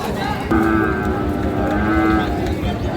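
A medium-sized farm bull at a cattle market in Ambari, Dinajpur, lets out a loud, sustained moo that breaks and resumes, close by over a busy market murmur.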